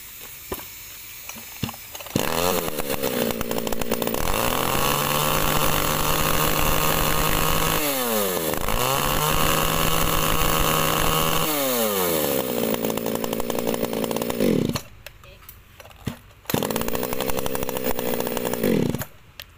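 A two-stroke chainsaw engine runs loudly and close, revving up and down repeatedly between idle and high throttle, with brief drops near the end.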